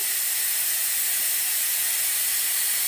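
Harbor Freight pneumatic brake bleeder running on compressed air while sucking out brake fluid, a loud, steady, close hiss that stays constant throughout with no talk.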